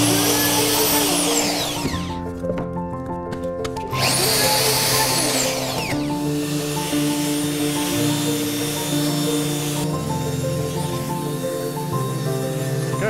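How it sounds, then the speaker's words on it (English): A router cuts a chamfer around the inside of holes in a wooden chopping board, giving a steady, loud high-pitched whine with shifting cutting tones and short bursts as the bit bites into the wood, with no talk. "we'll put a chamfer on the inside of those holes using the router"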